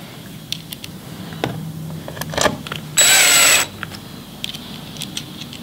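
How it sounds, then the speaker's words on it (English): A power screwdriver drives screws back into the case of a Yamaha MOXF8 keyboard during a repair. One loud, close whir lasts under a second, set among faint clicks and handling noises. "Put back the four screws."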